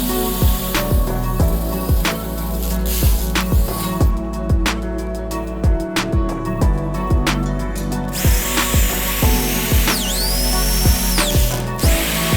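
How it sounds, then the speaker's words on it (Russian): A rivet nut set with a budget hand riveter on a homemade lighting stand: loud, steady repeated metallic clicks and ratcheting squeezes in a regular rhythm, with a brief rising squeal near the end. "Заклепываем гайку-заклепку. Такой заклепочник бюджетный."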